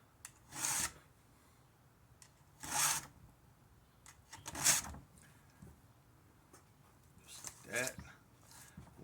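Hand file sharpening a chainsaw chain, four separate raspy strokes spaced a couple of seconds apart, close and fairly quiet against a low background.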